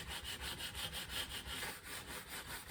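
A metal file rasps back and forth across the fret ends of a restored cigar box guitar in a steady, even rhythm of close-up scraping strokes, with no voices.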